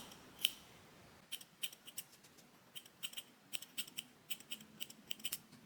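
Small thread snips trim fuzzy microfiber yarn on a crocheted mesh winter bag, producing a long run of quiet, quick clicks in an uneven rhythm that speeds into clusters, heard alone and close.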